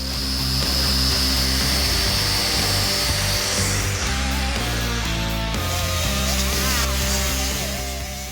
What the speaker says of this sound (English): we have to use an abrasive disc on a big grinder